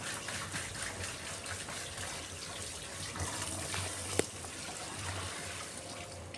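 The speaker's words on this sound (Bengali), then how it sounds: "আলুগুলোকে ভালো করে ধুতে হবে, খুব ভালো করে ধুয়ে নিচ্ছি।" Cut potatoes are washed in a basket under a running kitchen tap, a steady close stream of water splashing and trickling with little change.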